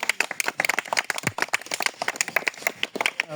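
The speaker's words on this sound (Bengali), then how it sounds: "সবাই হাততালি দিয়ে বরণ করে নাও।" A crowd claps at a badminton tournament prize-giving ceremony: dense, continuous, fairly loud applause made of many overlapping hand claps throughout.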